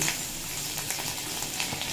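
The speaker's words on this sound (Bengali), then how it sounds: "দিয়ে দেব পাঁচ ছ কোয়া রসুনের কুচি" Chopped garlic, five or six cloves, frying in hot oil already seasoned with nigella seeds and a dried red chilli, for an Odisha-style pointed gourd dish, giving a steady close sizzle with small pops and no voices.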